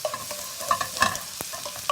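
Ginger sizzles and fries in a generous pool of hot oil in a tilted pan, a steady close crackle broken by brief scrapes and stirring, with no voices.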